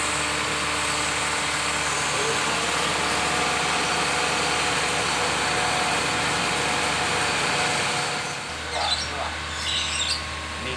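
A 2010 Honda Freed engine runs steadily during an engine tuning treatment, a constant mechanical hum with a tonal whine that holds for several seconds before shifting lower near the end, alongside faint background sounds.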